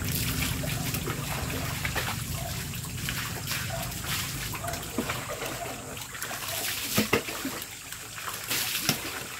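People bathing in an outdoor spring, with steady trickling and running water and intermittent splashes close by, faint voices now and then in the background.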